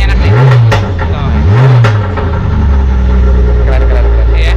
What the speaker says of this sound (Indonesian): Nah, ini anti lagnya agresif.